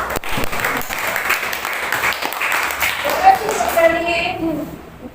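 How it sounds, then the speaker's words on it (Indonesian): A classroom of schoolchildren claps for a presenting group, fairly loud crisp applause that thins and fades toward the end, with children's voices chattering under and after it. "Kita beri tepuk tangan dapat kesiapan."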